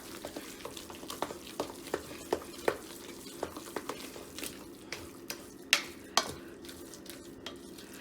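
Spoon stirring a cornbread dressing mixture in a pot or bowl, giving repeated quick scraping knocks and clinks in an uneven rhythm over a soft wet squishing bed, close and fairly quiet, with no voices.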